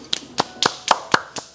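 Seven crisp, separate hand claps from one person at a Thai hotpot restaurant, evenly spaced and close, with no talking over them.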